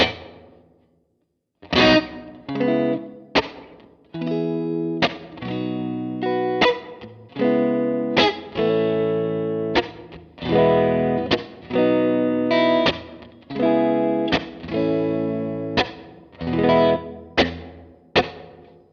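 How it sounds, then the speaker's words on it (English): A series of sustained chords through a Universal Audio Golden Reverberator's room reverb, each with a dark, bassy reverb tail lingering in a room-like space before the next chord enters. "it's pretty dark in terms of the reverb sound at the end. It's quite bassy as well."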